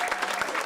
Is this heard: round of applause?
yes